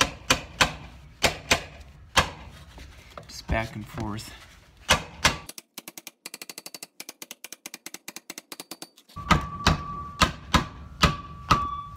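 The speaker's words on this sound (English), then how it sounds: "I'm just gonna tap it on with a hammer" A hammer taps a new rear hub onto a Jeep Grand Cherokee WK with its backing plate removed: sharp metallic knocks in uneven bursts, some quick rapid runs, with brief talk between strikes.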